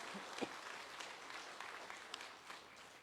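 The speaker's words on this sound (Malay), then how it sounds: "Marilah kita berikan tepukan penghargaan kepada mereka semua." An audience at a Melaka state government assembly applauds, heard as a faint, distant and continuous wash of clapping that stays even throughout.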